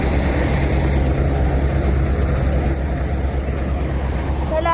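A farm tractor pushes a cart, its engine producing a steady, loud, low droning rumble with a constant hum and some wind noise, continuing without a break.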